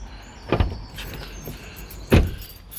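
Power windows on a BMW 1 Series F21 118d give two brief motor whirs with soft thumps, separated by a quiet interior pause.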